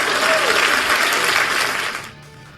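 A loud burst of crowd applause, dense and steady, fading out over the last half second.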